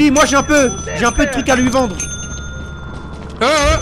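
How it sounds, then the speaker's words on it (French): A ship's bell rings in the video game Lethal Company, a short bright ding that sustains under and after talking voices, with chatter returning at the end. "Faut appuyer sur la sonnette pour redécoller le vaisseau"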